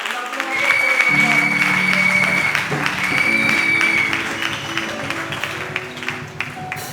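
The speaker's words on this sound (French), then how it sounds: "Est-ce qu'on peut acclamer le Seigneur?" A church congregation at a thanksgiving service breaks into sustained applause and cheering, a dense roar of clapping that swells and then slowly fades while voices rise within the crowd.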